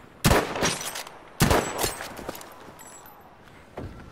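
Gunfire in the shooter Battlefield V, two sharp, loud bursts of rapid shots about a second apart, each trailing into echoing decay, then a fainter single report near the end.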